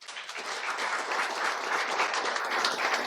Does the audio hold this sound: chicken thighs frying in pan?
no